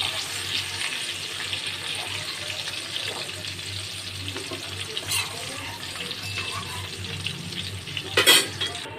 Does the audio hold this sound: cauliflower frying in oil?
yes